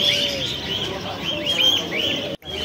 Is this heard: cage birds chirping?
yes